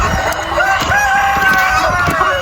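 Hens clucking and a rooster crowing in a crowded coop of Andijan black chickens, with drawn-out crowing lines over busy close-up clucking.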